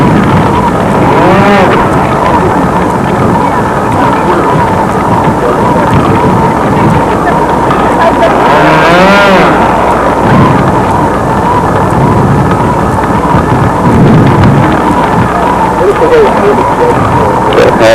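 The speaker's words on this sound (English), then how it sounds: "run up each engine." Model airplane engines at a windy control-line contest run up one after another, a loud continuous buzzing drone with rising and falling pitch sweeps, heavy wind rumble on the microphone and people talking over it.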